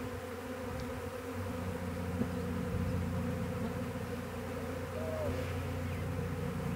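A swarm of honey bees fills the air outdoors over a driveway with a dense, continuous droning hum, steady and fairly loud, without voices.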